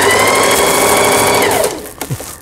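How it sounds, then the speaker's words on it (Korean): A repaired Singer 4423 sewing machine runs in a loud, steady whir of rapid stitching for about a second and a half, then winds down and stops, leaving a few faint handling clicks. "모든 기능들이 다 스탑됐던 기계 수리를 마치고 박음질하는 영상이었습니다"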